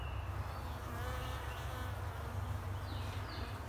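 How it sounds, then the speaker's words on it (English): Honey bees buzz during a backyard hive removal near sunset, a steady dense swarm hum close by with individual bees droning past, and no one speaking. "Backed up quite a bit of bees."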